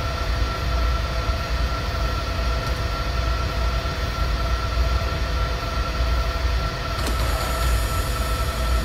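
A train runs steadily in the Train Simulator 2020 game, a continuous loud rumble of wheels and motor with faint rail squeal and a brief click near the end, no voices.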